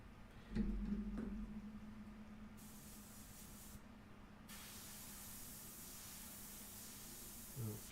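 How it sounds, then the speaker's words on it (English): Airbrush spraying India ink gives a steady, fairly loud hiss that runs almost the whole time, starting with a short burst. Its level shifts a little as the spray continues. "I'll just use it from this airbrush here."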